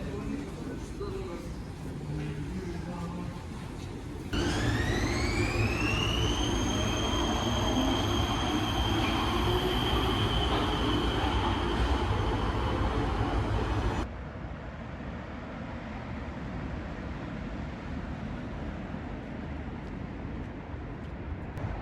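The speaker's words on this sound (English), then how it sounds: "After a short and sweet one-stop ride on the metro" Interior of a Prague metro train in motion: a loud rumble and rising electric whine as it accelerates, then a quieter roll with a steady hum.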